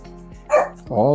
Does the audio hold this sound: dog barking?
yes